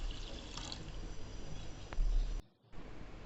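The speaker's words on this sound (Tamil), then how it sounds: "அதை அதில் ஆட் பண்ணி 3 கப்பு தண்ணி விட்டுக்கிடுவோம்" Water pours from a cup into a pressure cooker holding washed jeera samba rice, a close, steady splashing fill that stops abruptly after about two seconds.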